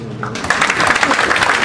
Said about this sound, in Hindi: एक बार भरपूर तालियों से उनको यहाँ पर आप आमंत्रित कीजिए